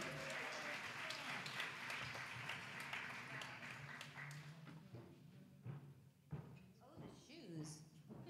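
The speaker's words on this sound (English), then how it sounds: "Ladies and gentlemen, keep applauding." A concert audience applauds loudly in a dense, continuous wash of clapping that thins toward the end, with a voice talking over it.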